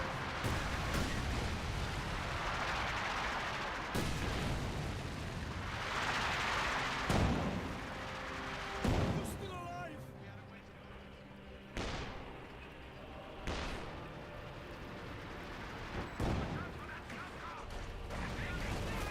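Incendiary light artillery barrage in the World War II strategy game Company of Heroes 2, with a series of booming impacts and crashes spaced out over about twenty seconds, a commentator talking throughout.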